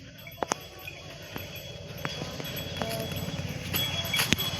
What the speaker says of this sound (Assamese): ৰবি ৰবি ঘোঁৰা দুধছি